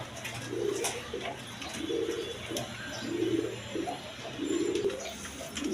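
A pair of pigeons, a white Bombay female and a yellow-tailed Lahori male, coo close by in four rolling, evenly spaced bouts over a faint steady hum, with no voices.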